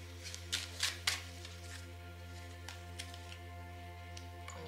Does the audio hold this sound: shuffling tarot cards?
yes